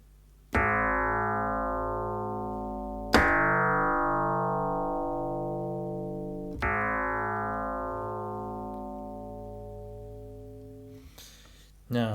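A Yamaha DX7 FM synthesizer plays a hammer-like tone tuned around 158.5 Hz: three sharply struck notes, each ringing out with a very long, slowly fading decay, followed by a brief fourth attack at the end.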